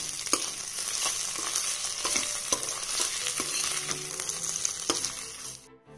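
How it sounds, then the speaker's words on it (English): Ginger garlic paste frying with onions for chicken do pyaza sizzles steadily up close, with repeated sharp scrapes and clacks of a spatulaOuter stirring the pan, then cuts off abruptly at the end. "You can then fry the ginger garlic paste with the onions until the raw smell of the ginger garlic paste goes away"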